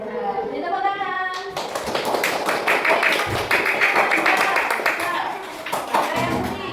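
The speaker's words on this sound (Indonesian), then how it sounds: "Di tepuk tangan." Children clap their hands together in a classroom in a quick burst of claps after a teacher's spoken prompt, with voices heard at the start.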